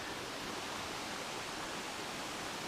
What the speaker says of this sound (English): Came across a little river here.